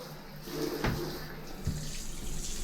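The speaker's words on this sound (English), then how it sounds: "I'm going to go ahead and turn the water on, rinse it all down" Water from a tap runs to rinse a surface cleaned with Pink Stuff, a soft, steady splashing flow with a few brief clunks and knocks of handling mixed in, no talking.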